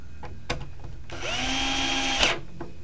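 A power drill whirs steadily for about a second while driving screws into a PS3 case, close and loud, bracketed by sharp clicks and handling knocks before and after.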